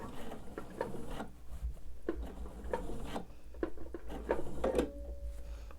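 Sewing machine back-stitching a quilt border seam, a faint, quiet run of short mechanical ticks and whirs with small pauses between bursts, heard close in a quiet room.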